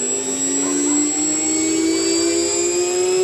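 A small glow engine on a control line stunt plane running with its propeller spinning, a loud steady high-pitched buzzing whine that slowly rises in pitch, close by.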